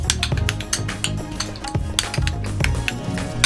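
A spoon mixes guacamole of mashed avocado, salt and squeezed lemon in a bowl, giving repeated close clinks and knocks against the bowl in an uneven rhythm, alone without talk.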